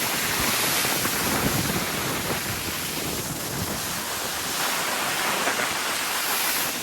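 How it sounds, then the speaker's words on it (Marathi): Arabian Sea waves crash and surge against the bastion of Vijaydurg fort, a loud, continuous roar of surf with wind buffeting the microphone and no pauses. "लाटा बघा, लाटा या समुद्रात येत आहे."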